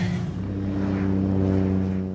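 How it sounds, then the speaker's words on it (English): A small propeller airplane at an airport hums with a loud, steady engine drone and a strong tonal buzz, close and continuous for a couple of seconds. "Back at the airport, an empty plane means a successful trip for Peter Rourke."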